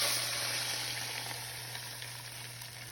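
Beaten eggs frying in a hot pan with bacon over medium heat, a soft steady sizzle that fades slightly over a few seconds, quiet and alone under a low hum.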